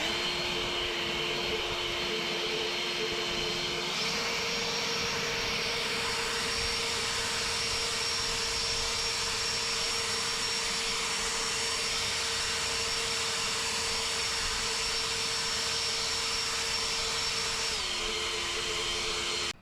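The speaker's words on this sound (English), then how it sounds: "But I want to let you hear that power boost, that turbo." An EGO 650 CFM battery leaf blower runs steadily with a loud electric whine, then revs up into turbo boost for a higher, stronger roar before easing back near the end, with no talk.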